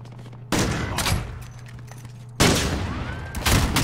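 Call of Duty gunfire erupts in two heavy, sustained bursts of rapid automatic shots, close and loud, separated by a quieter gap with faint background game sounds.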